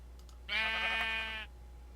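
Sheep in the Tolkiencraft Minecraft modpack video game gives a single wavering bleat, about one second long, clear over a faint steady hum.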